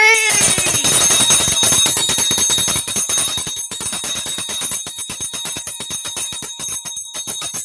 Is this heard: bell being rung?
yes